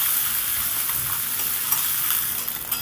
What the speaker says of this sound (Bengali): ফোড়নটা ভেজে নিয়ে দিয়ে দিলাম কুচানো পেঁয়াজ। ভালো করে নেড়ে চেড়ে পেঁয়াজটাকে একটু লাল করে ভেজে নেব।